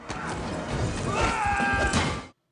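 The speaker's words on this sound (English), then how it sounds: "That's the sound of Vin Diesel throwing an unnamed henchman off the side of a moving train into steel barricades" A movie sound effect from Fast Five: a henchman thrown off a moving train into steel barricades, a dense rumbling crash of impacts and metallic scrapes over train noise, ending abruptly.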